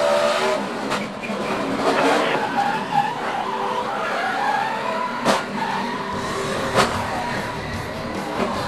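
NASCAR race cars skid and screech with squealing tires during a multi-car wreck, loud engine and tire noise running throughout with faint voices in the background.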